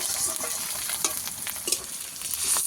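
Onions and tomatoes frying in a pan for a Bengali fish curry, giving a bright continuous sizzle with occasional stirring scrapes and spatula knocks, close and with no talk.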